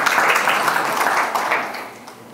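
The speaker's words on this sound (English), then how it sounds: "The council should be clapping at that one." Applause from the audience at a city State of the City speech, a continuous close wash of clapping that swells briefly and then tapers off toward the end.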